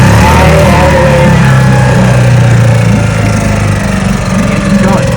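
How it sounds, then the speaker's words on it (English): A small gasoline engine runs steadily and loudly at close range, a continuous buzzing drone with slight shifts in pitch. "Engine's going."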